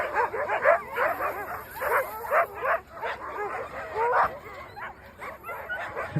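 Sled dogs in Greenland bark, yip and whimper in rapid overlapping bursts, loud and close, a whole pack calling excitedly without pause.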